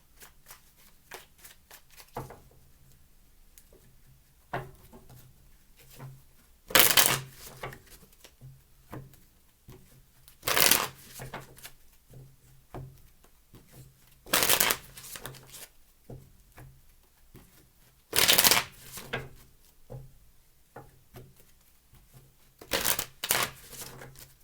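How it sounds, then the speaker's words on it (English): Tarot cards are shuffled in several separate bursts, each a crisp, close riffling flutter lasting about a second, with quiet gaps and small handling clicks between. "Shuffle."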